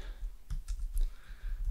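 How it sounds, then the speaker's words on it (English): Several quick keyboard key presses as shortcut keys are hit, giving sharp close clicks at irregular intervals over a low background hum. "I can hit Command and left or Command and right."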